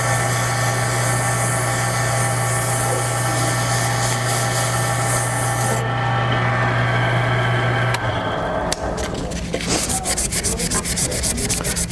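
Sandpaper of 320 grit rubs steadily against a spinning wooden pen blank on a lathe, a continuous close abrasive hiss over a low motor hum that cuts out partway, leaving lighter scratchy rubbing.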